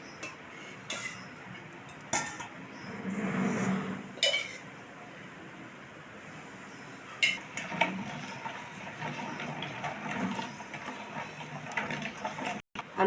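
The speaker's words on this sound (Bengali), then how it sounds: "এবার তেল দিয়ে আমি ভালো করে মিশিয়ে নেব মশলাটা।" Fried spice masala is worked together with oil for mango pickle, a spoon clinking and scraping against the bowl in quiet, irregular taps and stirring bursts, close by.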